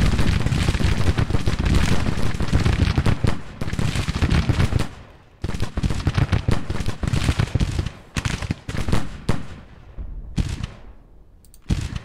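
Civil War musket volleys and artillery fire in the Grand Tactician strategy game: dense, continuous crackling gunfire and booming shots rolling together, with brief lulls between heavy bursts.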